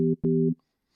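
A plain, basic synthesizer tone from Ableton's Operator synth sounds twice in quick succession, a short note then a longer one, steady and slightly buzzy, followed by silence.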